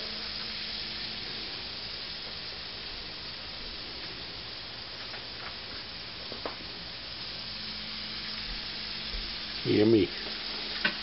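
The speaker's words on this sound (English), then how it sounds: "So here's what they look like in the frying pan." Steady frying sizzle of walleye in a pan with olive oil and Shore Lunch breading, an even hiss throughout with a few faint clinks and a short louder burst near the end; a voice speaks briefly.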